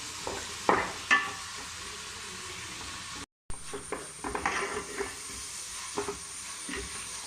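Sliced onions sauté in a pan for a Kerala-style chicken curry, browning with a soft, steady sizzle and scattered scraping stirs, interrupted once by a brief silence.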